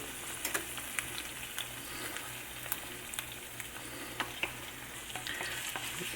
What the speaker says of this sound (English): I'm gonna go ahead and flip the eggs